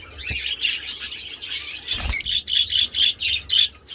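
Lovebirds chirp in quick, bright bursts, close by, with a steady run of rhythmic tweets toward the end and a soft thump partway through.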